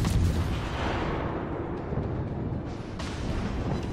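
Warship guns booming in a naval battle in World of Warships, heavy rumbling salvos over a continuous low roar, with a couple of sharper reports late on.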